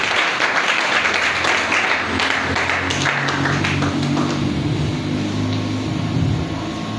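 A church congregation applauds loudly and continuously, with a roomy, dense wash of clapping that carries on without any talk.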